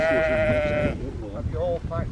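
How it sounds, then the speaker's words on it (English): Sheep bleat loudly and close by in a rural countryside scene, one long wavering bleat followed by shorter bleats over a steady outdoor background. "Sheep,"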